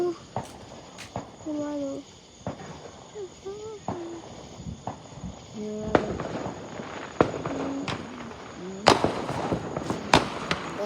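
Fireworks and firecrackers going off outdoors in a series of sharp, loud bangs and crackles at irregular intervals, some close and some farther away, with chirping insects and people talking faintly between the blasts.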